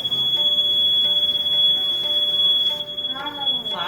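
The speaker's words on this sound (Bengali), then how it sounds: "ফায়ার অ্যালার্ম অন হয়ে গেছে" A home fire alarm sounds during a Satyanarayan puja, holding a continuous high-pitched electronic tone with faint pulsing, while chanting and voices run underneath and a person speaks near the end.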